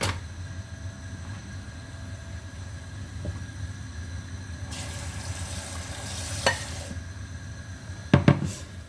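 Palm sugar and a little water cook in a pot for a bubur sumsum dessert, giving a soft steady sizzle and bubbling, with brief stirring and pot clatter near the end.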